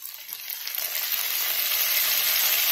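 Spice paste hissing in hot oil in a home kitchen pan with ginger and garlic, a bright, loud, continuous sizzle that builds slightly and cuts off abruptly at the end.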